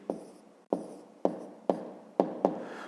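A pen writes numbers by hand on paper in a math exercise, six short scratchy strokes spaced about half a second apart, close and quiet with no talk.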